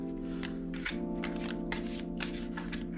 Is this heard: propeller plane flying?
no